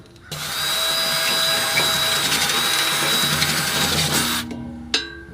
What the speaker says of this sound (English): Just got to drill through this front plate here.